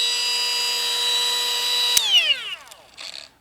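Milwaukee cordless cut-off tool running at a single fixed speed, a loud high-pitched motor whine that holds steady, then cuts off and spins down in a falling pitch sweep, followed by a brief clatter.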